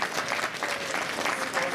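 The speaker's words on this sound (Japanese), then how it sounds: "みんな彼に拍手しようぜ。" Brief burst of crowd clapping from the Turtle Talk show audience at Tokyo DisneySea, dense and even throughout.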